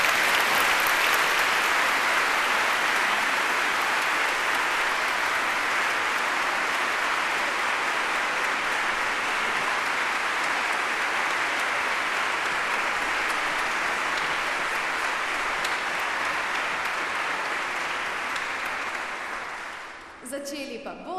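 A concert audience applauds a symphony orchestra in Novo mesto, Slovenia, celebrating its 25th anniversary: dense, sustained clapping fills the hall for about twenty seconds before fading out near the end.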